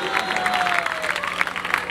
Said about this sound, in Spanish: Un fuerte aplauso para Michael